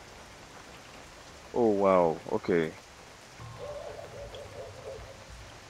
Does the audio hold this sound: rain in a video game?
yes